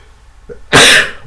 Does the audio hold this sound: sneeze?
yes